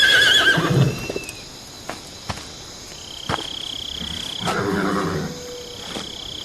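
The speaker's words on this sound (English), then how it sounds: "Um cavalo branco?" A white horse in the video game Metal Gear Solid 3 gives a loud, close whinny, followed by softer snorts and scattered game sounds against a steady ambient background.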